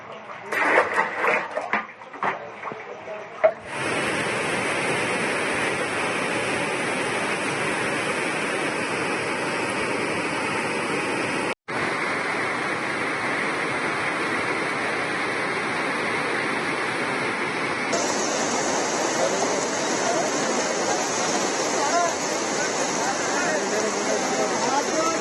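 Floodwater from heavy rain in Kalaburagi, Karnataka rushes with a loud, steady roar. Several brief knocks and shuffles come first, then the torrent flows without a break, with a sudden drop about halfway through.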